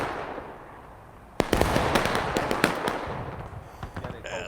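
A distant artillery round bounces and bursts in a historical battle video game, a sudden loud crack followed by a dense crackle of scattered pops and muffled battlefield noise continuing for several seconds.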